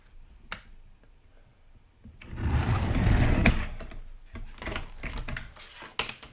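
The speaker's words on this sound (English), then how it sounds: "I'm going to cut about a little less than 1/2 an inch off of this card" A paper card is trimmed down with a series of crisp snips and a sliding, scraping cut, close and fairly quiet, with small ticks and clicks from handling around it.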